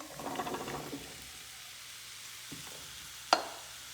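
Zucchini sautéing in a pan for vegetable lasagna, a soft steady sizzle with faint stirring scrapes near the start, then quieter frying and a single sharp clank of a utensil against the pan.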